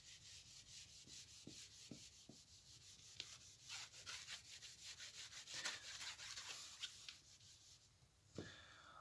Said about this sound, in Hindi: Let me rub this.